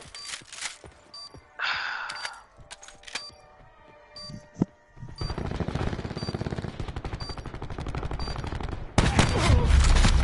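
Gunfire while shooting an enemy in a video game: scattered single shots and short bursts early, then a long stretch of sustained rapid automatic fire ending in a louder, heavier volley.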